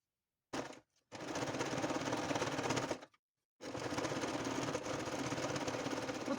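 Sewing machine stitching a seam on fabric binding, with close, loud rapid needle chatter in three bursts separated by short pauses.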